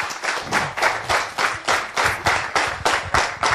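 An audience at a children's reading competition final claps in a slow, rhythmic unison beat, about three claps per second, loud and close in a hall.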